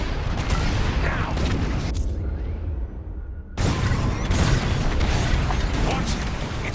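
Bombs exploding during a bombing run in the Star Wars Squadrons space combat game, a dense roar of booming blasts and crackling bursts that drops out briefly, then returns loud and sustained.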